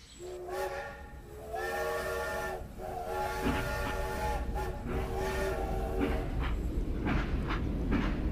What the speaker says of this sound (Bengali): ট্রেন যায় একেবারে ওদের বাংলোর সামনে দিয়ে